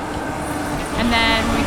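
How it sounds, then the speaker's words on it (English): A long-distance Siberian train starting up and rolling along, heard from inside the carriage as a loud, steady rumble with a brief rise in clatter and hum as it moves. "The train just starts up and takes off again."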